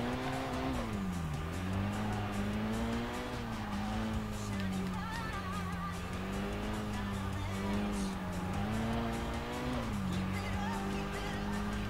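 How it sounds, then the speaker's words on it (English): A car drifts in the racing game Kaido Racer 2, its engine droning steadily while sustained tire squeal wavers in pitch throughout, loud and continuous with no pauses. "Car can drift too, nice."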